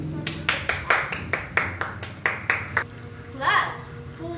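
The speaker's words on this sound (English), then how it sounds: "shall we give them a round of applause?" A class of children claps for classmates in a classroom, a run of about ten distinct, fairly sharp claps at a steady pace, followed by a brief burst of voices near the end.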